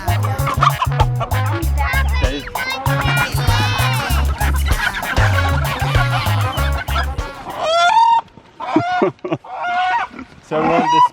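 A farm rooster destined for slaughter gives clucking, squawking fowl calls, first over a low droning hum with voices nearby, then louder, clearer bursts of calls near the end.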